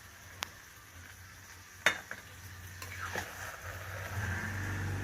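Cabbage curry stirred in a wok with garam masala added, giving a low steady sizzle, a few sharp spoon scrapes and clinks against the metal, and a soft rising hiss toward the end.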